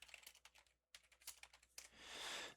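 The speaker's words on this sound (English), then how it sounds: "gonna type it" Someone typing on a computer keyboard, with quick soft clicks in short bursts, close and faint, followed by a brief hissing swell.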